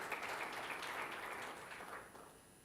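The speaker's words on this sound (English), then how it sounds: "let's give a round of applause to the employees of" Audience applause at an annual general meeting for an organisation's employees, a steady wash of many hands clapping that stays fairly even before tapering off toward the end, heard at a modest level with no talk over it.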